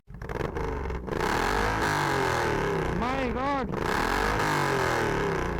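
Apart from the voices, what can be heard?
rare superbike with aftermarket exhaust revving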